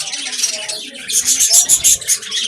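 Budgerigars in a breeding setup chatter and chirp rapidly in bursts, a busy, high twittering flock close by, with a low voice murmuring underneath.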